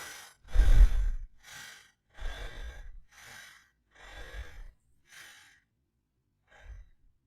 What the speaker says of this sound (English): Can you hear me breathe?